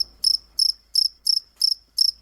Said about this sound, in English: Anytime I talk to you, I have the crickets ready to go.